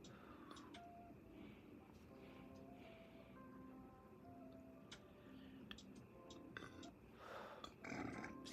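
A single soft burp after a slow breathing exercise, faint and low in a quiet room during a calm spiritual chat, with a slightly louder rough burst near the end.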